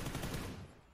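Video game gunfire rattles off in a loud, dense automatic burst for about half a second, then trails away into a faint decay.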